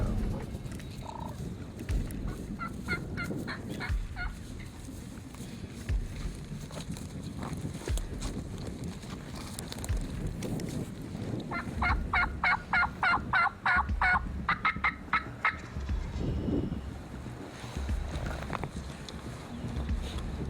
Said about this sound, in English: We got a bird gobbling right down in front of us, and he's ripping it.